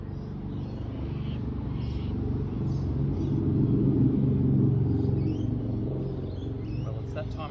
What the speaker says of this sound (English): lots of cars in the background, lots of background noise and lawnmowers and stuff